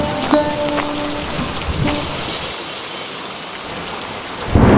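Heavy rain pours steadily and close by, with a few deep rumbles of thunder in the first two seconds and a louder burst of rain at the very end.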